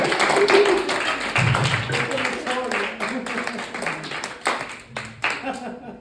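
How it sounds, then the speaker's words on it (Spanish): A church congregation claps together during a Spanish-language sermon, sharp rhythmic handclaps mixed with voices, strong at first and gradually thinning out. "dale un aplauso en ese momento para que lo aplaude al Señor"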